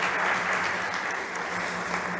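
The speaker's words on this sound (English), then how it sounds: "Big applause to Chris." An audience applauds at a fintech startup competition stage, a dense, even wash of clapping that holds steady from start to finish without speech.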